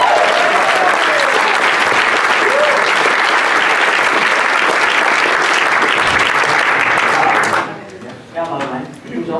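Loud, sustained applause from a large audience at a sports congress, honoring a bronze medal in Olympic rowing, dense and steady before tapering off sharply near the end.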